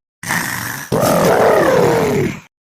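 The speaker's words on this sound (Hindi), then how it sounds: "एकदम खर्राटा मारत है तीनों जानी।" A single loud, drawn-out snore, a rough rasping inhale lasting about two seconds with a brief break partway through, heard close and alone.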